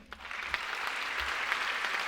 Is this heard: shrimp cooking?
no